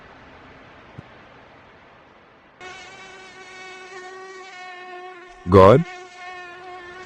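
Mosquitoes whine in a thin, high, steady buzz that rises after a quiet start and carries on near and clear, with a brief loud burst partway through and a single short word spoken.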